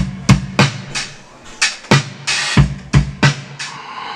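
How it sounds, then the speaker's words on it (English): Sampled vintage-style drum beat with an acoustic thump, loud kick and snare hits repeating in a steady groove over about four seconds, no talking. "I'll show you what the drums sound like."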